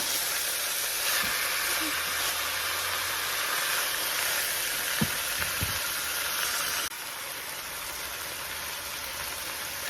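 Onions sauté in a pot for beef stew, a steady, close sizzle and hiss that continues throughout, with a few faint stirring knocks and a slight drop in level near the end.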